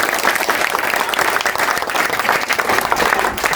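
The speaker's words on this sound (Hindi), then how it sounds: "उनके लिए मैं चाहता हूं कि आप एक बार जोरदार ताली से" A crowd at a Bahujan Jodo Abhiyan rally in Nanakmatta claps loudly and steadily, a dense, continuous wash of applause with no break.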